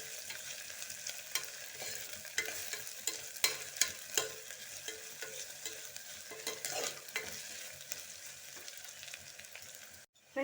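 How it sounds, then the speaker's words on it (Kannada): Onions frying in a pot for a one-pot chicken biryani: a continuous soft sizzle broken by frequent spatula scrapes and taps, fairly quiet and close, ending with a sudden louder knock. "ಈರುಳ್ಳಿ ಕೂಡ ಈಗ ಫ್ರೈ ಆಗಿದೆ"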